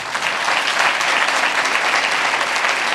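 Loud, dense applause from a congregation at a sermon meeting in Beas Pind, continuous clapping filling the space with no talking over it.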